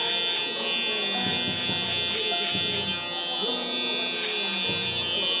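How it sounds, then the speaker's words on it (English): Electric shaver buzzing close against hair during a burst fade mullet haircut, a steady electric hum running through the whole stretch with small shifts as it passes over the head. "now we're gonna follow it up with our shaver just to take it a little closer to the skin"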